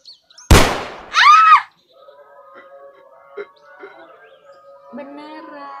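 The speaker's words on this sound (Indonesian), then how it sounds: "Tadi kita dengar suara tembakan di sini" A toy pistol in a comedic cartoon parody dub fires one sharp, loud pop. A squealing cry follows, then quiet voices and faint background sounds.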